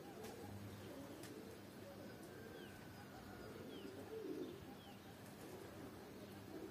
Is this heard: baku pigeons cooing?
yes